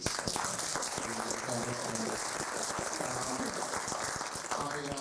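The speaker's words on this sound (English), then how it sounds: "Round of applause, please." An audience at a conference session applauds with a dense, sustained round of clapping that carries on steadily, while a voice talks over it.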